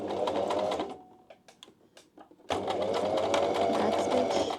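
A home sewing machine stitches a single welt pocket on pants, running in a loud steady whir, pausing briefly with light clicks, then resuming for a back stitch.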